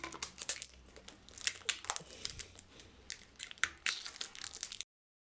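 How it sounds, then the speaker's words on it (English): Parcel tape crinkles and tears in quick bursts while being pressed over the edge of a cricket bat during a repair, a run of close, crisp crackling pulls with short pauses between them. "So pop some parcel tape over there, it does a sufficient job."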